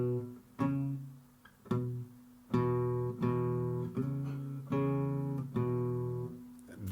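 A guitar strums a beginner's 12-bar blues rhythm: a steady shuffle of chord strokes with a few uneven attacks and pauses, played close and alone, with no talking.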